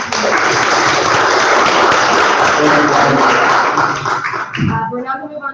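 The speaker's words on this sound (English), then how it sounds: "Give a round of applause." Applause at a student council meeting: a room of people clapping steadily and loudly for several seconds, tapering off near the end as a voice begins speaking.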